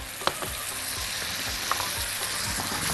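Zucchini coated in marinade sizzles steadily in a hot pan while being stirred, with continuous frying crackle and a few soft spoon scrapes and taps, close and moderately loud, with no voices.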